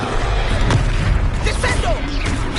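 A spell blast in a Hogwarts wizarding video game hits with a loud boomy impact and crackling burst, followed by sparkling whooshes and tonal swirls over steady game background noise.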